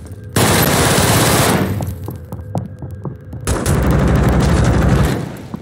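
Loud rapid automatic gunfire in a Call of Duty match, sustained bursts with brief pauses, dense and close, no talking over it.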